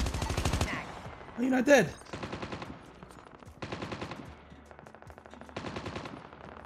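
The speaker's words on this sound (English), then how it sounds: "I'm still getting shot at by the dude up on the hill." Rapid automatic gunfire rattles through a Call of Duty battle royale match in repeated bursts of shots, some from distant attackers. A voice speaks briefly over the shooting.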